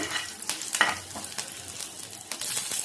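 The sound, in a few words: curry leaves frying in hot oil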